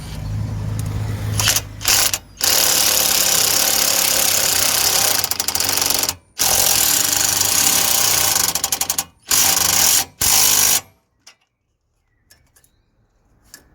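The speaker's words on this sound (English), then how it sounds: "so I'm using a 17mm socket to tighten the nuts on the top and bottom" A power tool drives a 17mm socket to tighten the suspension anti-roll bar link nuts on a Honda Jazz/Fit, giving loud continuous whirring bursts broken by short pauses, then stopping near the end.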